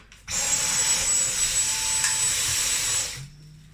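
A cordless stick vacuum runs on its low setting across carpet sprinkled with sand, starting abruptly with a steady high whine and airy rush for about three seconds before cutting off.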